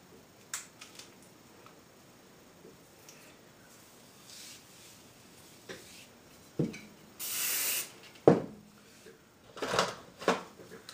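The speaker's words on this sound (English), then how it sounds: "Now I'm using the hairspray." Hairspray hisses in short bursts onto sections of hair before hot rollers go in, with one longer spray and scattered handling rustles nearby.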